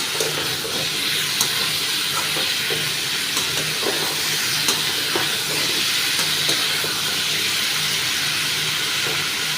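Pumpkin curry cooking in a pan, giving a steady broadband steamy hiss with faint scattered scrapes as it is stirred, fairly close and constant, with no voices.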